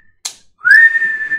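A person whistles with the lips to imitate a whistle blow, giving one sharp rising then sustained shrill tone, close and loud, after a brief breathy hiss.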